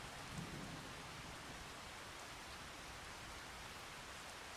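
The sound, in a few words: rain and thunder in video game Farming Simulator 25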